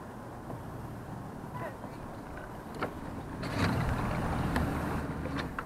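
A motorized kayak hums and vibrates steadily on the water, with the drone swelling louder about halfway through as the motor shifts between reverse and forward.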